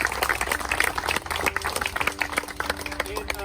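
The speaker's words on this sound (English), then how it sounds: "Can we give her another round of applause?" An outdoor crowd at a park opening claps in a round of applause, scattered hand claps blending with background chatter and a voice talking over them.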